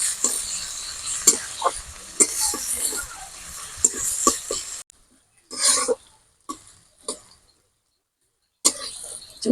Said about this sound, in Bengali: এবারে ওর মধ্যে দিয়ে দেব পেঁয়াজ কুচানো, দিয়ে এটাকে আমি পেঁয়াজটাকে ভালো করে কষিয়ে নেব